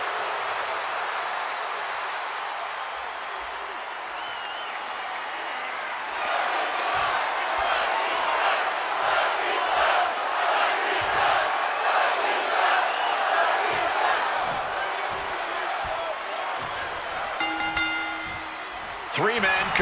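A large arena crowd in the WWE 2K26 wrestling video game cheers and roars in a sustained wash of noise, swelling midway, with a commentator talking over it and sharp slams near the end.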